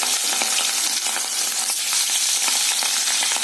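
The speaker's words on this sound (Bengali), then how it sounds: "লাল লাল করে আমি মাছগুলো ভেজে নেব" Rohu fish steaks fry in hot oil with a loud, continuous crackling sizzle, close and unbroken, with light stirring clicks scattered through it.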